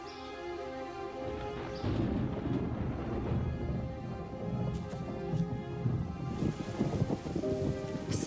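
Rain falls steadily in a spring garden, a continuous soft patter of drops on surfaces at moderate distance, with occasional heavier splashes.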